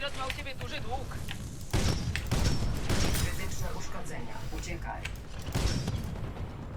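Bursts of gunfire and booming shots from the video game Titanfall 2, several loud volleys in quick succession while a voice talks over them.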